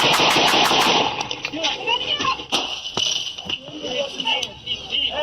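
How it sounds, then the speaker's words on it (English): Rapid gunfire aimed at police officers during a deadly standoff, several fast loud shots at the start, then scattered sharp cracks under shouting and talk. "He's shooting me."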